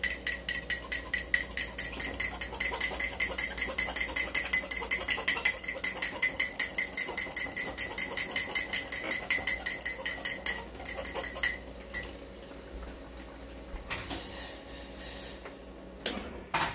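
A whisk beating an ale flip cocktail mixture in a bowl makes fast, steady metallic clinks and taps, a brisk rhythmic scraping that keeps going, then slows and breaks into looser strokes near the end.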